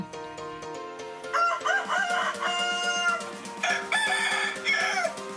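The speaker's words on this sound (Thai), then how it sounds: "และจะมีบริการ Morning Call ปลุกลูกค้าเป็นเสียงไก่ขัน" Roosters crow loudly and repeatedly at a rural homestay as a morning wake-up call, several overlapping cock-a-doodle-doo calls rising and falling over a background of clucking fowl.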